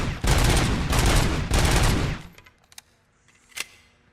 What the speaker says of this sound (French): Il tire plus en rafale le flingue.